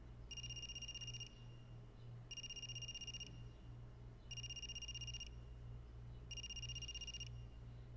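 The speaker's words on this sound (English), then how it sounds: "Is that a phone ringing?" A telephone in the video game AI: The Somnium Files rings in repeated bursts, four trilling rings evenly spaced about two seconds apart, faint over a low steady hum.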